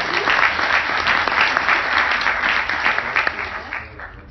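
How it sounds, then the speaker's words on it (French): An audience applauds at a fintech and blockchain conference, steady dense clapping that holds for a few seconds before thinning out toward the end. "on peut applaudir"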